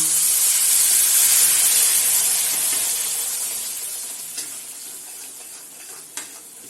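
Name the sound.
stirring moong dal halwa with milk in a pan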